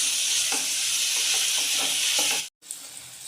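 Onions sizzle and fry in a pan for chola poori channa masala, a steady bright hiss with soft stirring scrapes, briefly cutting out near the end before resuming.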